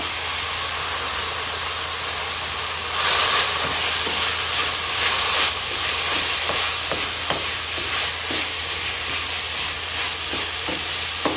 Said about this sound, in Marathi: भाजी बरोबर मी हे चण्याची डाळ पण टाकते।